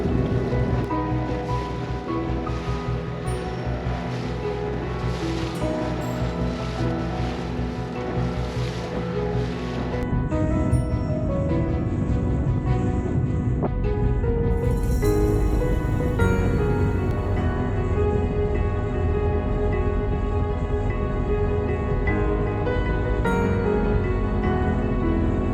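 A small dinghy crosses choppy open sea near a reef, its motor droning steadily beneath constant wind buffeting and slapping waves, loud and close throughout with no talking.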